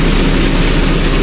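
Wood chipper engine idling to let the turbo cool down, a loud, steady low rumble with a constant drone and no change in pace.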